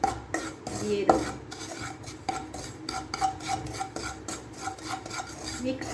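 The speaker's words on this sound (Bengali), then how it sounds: "সুজিটা যে কাঁচা ভাবটা সেটা যাওয়ার জন্যেই কিন্তু একটু লাল লাল করে ভেজে নেব" Semolina dry-roasting in a pan for malai sooji payesh is stirred steadily, giving a continuous close scraping and rasping with small clinks of the spoon against the metal, and no voices.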